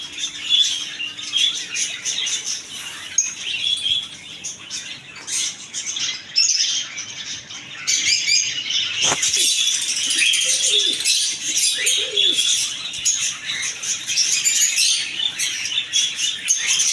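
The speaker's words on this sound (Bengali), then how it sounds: "বাজরিকা পাখি পেয়ে যাবেন অনেক সুন্দর সুন্দর কালারফুল" Budgerigars in a bird shop chirp and squawk in a dense, continuous high chatter, many birds at once and close by, with occasional rattling cage sounds.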